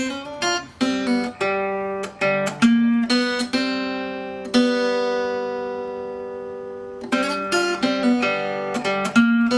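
An acoustic blues guitar plays the opening riff of a song, with clear plucked single notes and a ringing sustained note in the middle before the figure repeats. It is played alone, with no voices.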